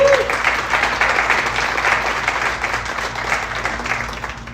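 An audience at a community volunteer appreciation evening gives a warm round of applause, steady clapping from a roomful of people that holds for several seconds and slowly tapers off.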